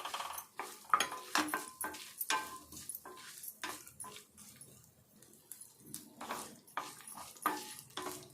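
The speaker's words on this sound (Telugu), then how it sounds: "నువ్వులు, ధనియాలు, జీలకర్ర ఇవన్నీ కూడా దోరగా వేపుకోవాలి." Sesame seeds, coriander seeds and cumin dry roasting in a pan, heard as soft, fairly quiet scraping and stirring strokes in an irregular rhythm, with no talk.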